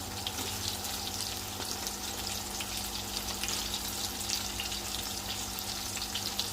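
Frozen fish tofu sautés in a hot pan with a steady, close sizzle and fine crackling that runs unbroken throughout, with no talking.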